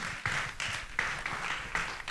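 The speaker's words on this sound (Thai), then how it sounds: "ขอเสียงปรบมือให้ตัวเองด้วยค่ะ" Audience at a community talk clapping for themselves, a soft, fairly distant patter of applause with a few sharper claps standing out at a loose, regular pace.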